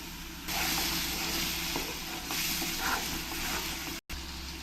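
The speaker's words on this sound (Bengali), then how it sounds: "সেই পেস্টটা আমি একসঙ্গে দিয়ে ভালো করে কষিয়ে নেব" A paste of poppy seeds and cashews cooks with spices in a hot pan, producing a steady close sizzle with soft stirring scrapes and a brief drop-out near the end; no one talks.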